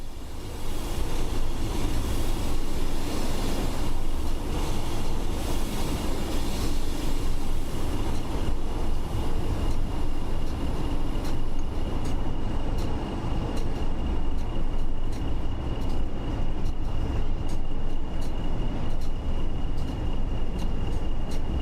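A train running on the West Coast Main Line in snow, a loud, steady rumble of wheels and carriages rolling past close by, continuous with no voices.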